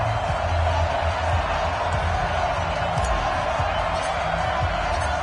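A stadium crowd roars steadily at an NFL game in an EA Sports video game, a broad continuous wash of crowd noise with low thumps underneath and no breaks.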